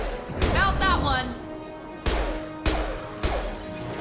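Explosions in the video game Mass Effect 2 Legendary Edition: several sharp, loud bursts land at intervals, the first under a man's speech and the later ones standing alone.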